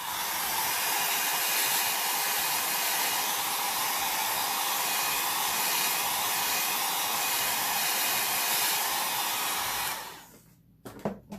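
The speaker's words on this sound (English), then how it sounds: "I'm going to come back in with that blow dryer" A hair dryer blows with a steady, loud airy whir for about ten seconds, then switches off.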